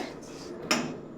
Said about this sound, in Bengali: গোলমরিচটাকেও ঢেলে নিব